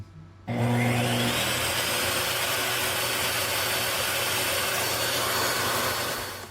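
A 15 amp shop vac powered by a BLUETTI AC180 portable power station switches on with a thump and roars at a steady, loud, broadband whoosh and motor hum for several seconds before trailing off.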